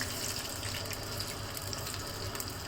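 About 300 ml of water pours into a cooking pot while a spicy chicken stew is being made, a loud, continuous, splashing gush that runs through the whole short stretch without any talk.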